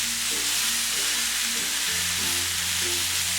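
Chicken tikka skewers fry on low flame in a pan on a gas stove, giving a steady, dense sizzle close up, with a low hum underneath and no talk.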